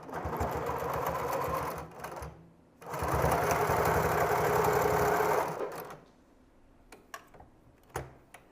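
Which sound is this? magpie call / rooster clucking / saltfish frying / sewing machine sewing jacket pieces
sewing machine sewing jacket pieces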